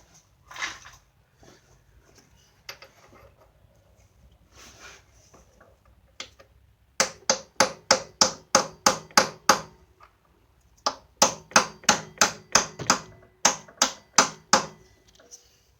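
A hammer taps on the metal harmonic balancer of a Jeep Grand Cherokee in quick, evenly spaced bursts of sharp strikes, with a pause between runs, after a few scattered lighter knocks.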